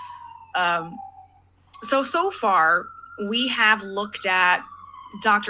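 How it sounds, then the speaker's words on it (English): An emergency vehicle siren passing in New York City wails and rises and falls behind someone talking, its tone sweeping up and down, fairly loud but partly covered by the voice. "sorry for the siren, we're in New York City."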